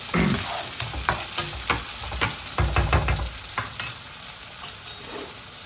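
Tomatoes hit a pan of frying baingan bharta, giving a steady, close sizzle broken by repeated scraping stir strokes in an uneven rhythm that thin out toward the end.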